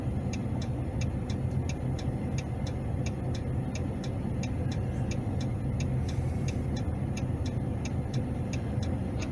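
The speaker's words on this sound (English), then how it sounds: "We've got so much traffic coming out" Steady road traffic rolls past near a jail in Lovejoy, Georgia, as shifts change, a continuous low rumble of cars passing without pause, with a faint regular ticking running over it and no voices.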